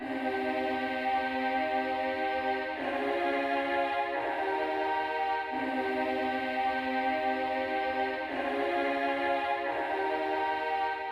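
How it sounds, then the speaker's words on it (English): A simple sustained female choir melody for a hip-hop beat, smooth held vocal chords that shift every few seconds in a slow repeating pattern, heard on its own and steady in level. "I found this female choir vocals, and then I played this very simple but very effective, in my opinion, choir melody."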